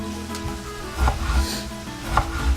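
Vegetables go into a hot pan for vegan chicken-style enchiladas and sizzle steadily, with soft clattering and stirring thumps over the hiss.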